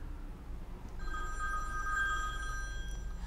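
A phone rings inside a tightly sealed waterproof case held underwater, giving a muffled, steady electronic ring that starts about a second in and continues to the end over a low watery rumble.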